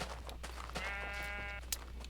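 A sheep in a farming video game gives a single drawn-out bleat over a steady low background hum, fairly clear but not loud.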